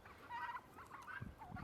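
A Royal Palm turkey hen, a smaller young bird without a beard, gives a few wavering, warbling calls up close, with short pauses between them.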